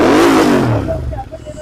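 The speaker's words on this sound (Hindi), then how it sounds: "तो ये आप एग्जॉस्ट का साउंड सुन" A Royal Enfield Interceptor motorcycle with a Gudsevak VTP exhaust gives a short, loud rev that quickly drops to a burbling idle, with someone speaking over it.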